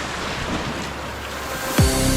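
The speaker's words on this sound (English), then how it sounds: "Coming up on the rapids right now" Rushing river rapids during a boat trip in Alaska, a steady broadband roar of water and wind, loud and close, with a brief sharp tonal sweep near the end.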